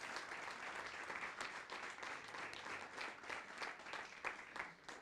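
Audience applause in a Spanish-language church or talk setting fills the clip with continuous dense clapping from a crowd, steady and moderately distant throughout.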